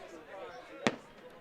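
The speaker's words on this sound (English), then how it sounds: "now we've got the fireworks display going on" A fireworks display during an Ottawa University Arizona vs. Olivet Nazarene University game, heard as a single sharp bang under commentators' speech and crowd noise.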